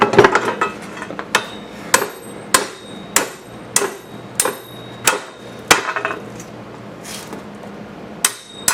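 Metal spike teeth are hammered into a homemade spike-tooth harrow for a garden tractor, about a dozen sharp, ringing blows in an uneven rhythm, loud and close, with no talking between strikes.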